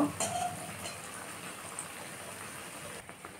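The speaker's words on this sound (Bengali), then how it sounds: "এবার আমি তেলের মধ্যে ভেজে নিব।" Snacks frying one by one in hot oil over medium heat give off a steady, even crackling hiss with scattered tiny pops. The sound is close and continuous, with no talking.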